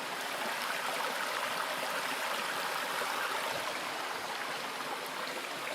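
A stream flows steadily with a broad, even rush and gurgle of water, faint and continuous, with no voices.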